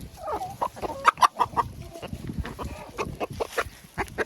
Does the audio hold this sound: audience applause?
no